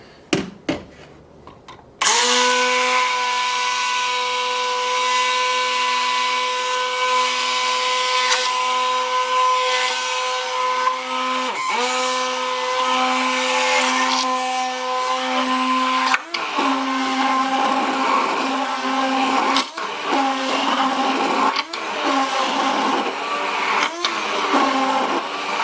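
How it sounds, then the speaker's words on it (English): An immersion blender pureeing the ingredients for a light starter soup runs as a steady, loud motor whine with a rich harmonic buzz, starting abruptly after a short clatter and holding for over twenty seconds with slight dips in load. "So now we've got our immersion blender."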